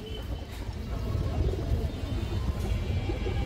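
Pigeons for sale, including a female with a black tail, coo softly and continuously close by over a low rumbling background, with faint chirps mixed in.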